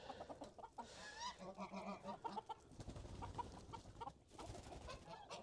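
Silkie chickens cluck and chatter softly near a coop on a muddy morning, with faint, scattered calls and rustling throughout.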